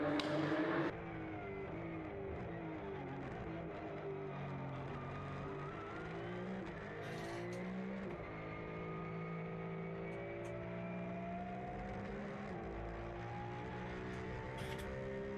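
Porsche race cars in the Porsche Sprint Challenge Southern Europe at Portimão circuit roar continuously, engine pitch rising and falling through gear changes as they pass at close range.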